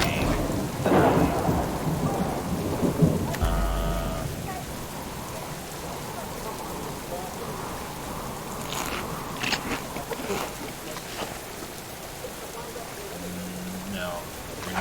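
Heavy rain and a thunderstorm in the survival game Subsistence, with a loud thunder rumble in the first few seconds over a constant patter of rain that keeps going throughout, along with a few brief clicks and faint background sounds.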